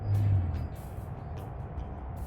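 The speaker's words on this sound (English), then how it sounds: "Some big truck stopped right by." A big truck pulls up and stops close by outdoors, giving a steady low engine rumble that swells briefly at the start and then settles into a continuous idle, with no voices.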